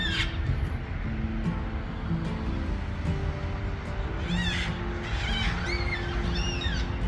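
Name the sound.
black swan calls at Woodcroft Lakes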